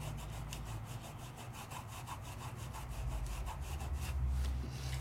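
Steady back-and-forth rubbing of ink onto die-cut paper with a crafting applicator, a soft continuous scrubbing texture with regular strokes, close and moderately loud, no talking.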